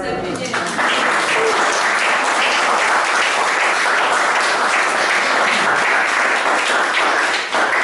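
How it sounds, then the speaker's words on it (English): Audience applause from a crowd at a live poetry performance, steady dense clapping sustained loudly for about eight seconds. "Can we get a round of applause for you for stepping in?"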